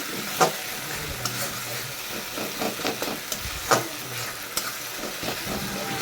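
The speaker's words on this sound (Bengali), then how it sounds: "এখন পেঁয়াজটাকে ভালো করে কষিয়ে নিচ্ছি" Sliced onions sizzle and fry in hot oil in a pan while being stirred for a rohu fish kalia, with steady crackling and a few sharp scrapes of the spatula against the pan, close and fairly loud.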